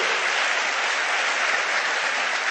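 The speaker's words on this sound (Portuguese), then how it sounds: "Você pode aplaudir ao Senhor?" Church congregation at a Sunday service applauding, a steady dense wash of clapping from many hands that holds evenly at moderate volume for the whole stretch.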